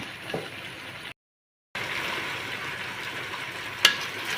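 Steady sizzling and frying of cut vegetable pieces cooking with mutton in a pan for a Kuwaiti-style vegetable mutton curry, a continuous hiss broken by a brief gap and one sharp clink near the end.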